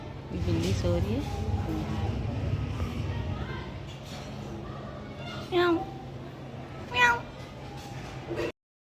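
A cat sleeping at home gives a couple of short meows, with someone talking over the first part of the clip and the meows standing out clearly near the end.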